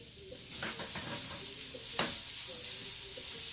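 Sweet potatoes sizzle as they drop back into a hot pan, a steady frying hiss broken by a few sharp bursts and clatters near the start and one loud spike midway.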